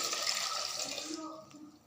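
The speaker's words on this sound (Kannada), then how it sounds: "ಟೊಮೆಟೊ ಹಾಕ್ಬಿಟ್ಟು ನೀರು ಹಾಕಿ" Water poured onto tomatoes in a pressure cooker for tomato rasam makes a close, steady splashing gush that tapers off after about a second.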